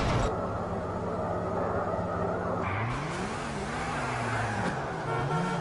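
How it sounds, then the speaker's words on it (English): Cars in Grand Theft Auto IV, including one modded to a 200,000 kg mass, drive and pile up in a steady roar of engines and road noise, with shifting engine pitches and a few brief horn-like tones running throughout. "Look at all the crashes."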